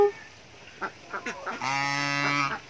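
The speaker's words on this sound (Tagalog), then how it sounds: "Hello, Daddy Ganso." Geese honk on a small mini farm, with a few short calls that give way to one long, loud, harmonic honk lasting over a second. No one speaks.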